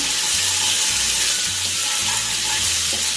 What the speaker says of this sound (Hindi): ये हमने अपने अदरक लहसुन को थोड़ा सा ब्राउन करना